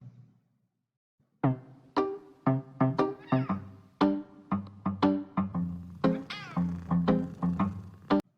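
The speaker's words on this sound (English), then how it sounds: "You hear the cat purring?" A cat makes a rapid string of short, close meows and chirps in quick succession, steady and fairly loud, after a brief quiet start.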